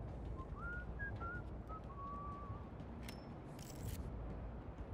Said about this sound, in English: I know that whistle anywhere. That's Nazi whistling.